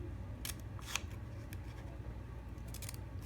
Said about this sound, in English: I'm just cutting straight from the edge of the seam up to the sewn stitching, about a 1/2 inch apart